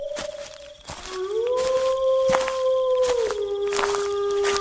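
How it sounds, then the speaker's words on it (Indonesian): A wolf howling at night in a village, with long sustained rising and gliding howls that overlap into a drawn-out chorus, fairly loud and close. "Kenapa suaranya serigala itu nggak berhenti yo?"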